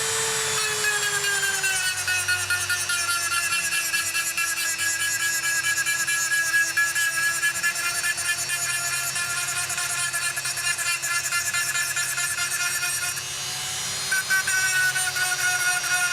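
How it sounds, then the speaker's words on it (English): A Dremel rotary tool grinds serrations into steel model-aircraft landing gear wire, a loud, steady high-pitched whine that runs nearly unbroken and close, dipping briefly near the end before resuming. "I just want to roughen this up, a parting tool, a Dremel tool, anything"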